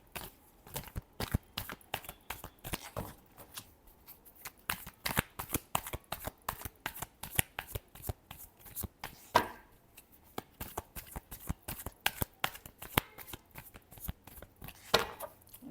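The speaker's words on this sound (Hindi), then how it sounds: "Last shuffle." Playing cards are shuffled by hand in a tarot-style reading, giving repeated crisp riffling bursts and slaps in an uneven rhythm, close and moderately quiet, with no talk over them.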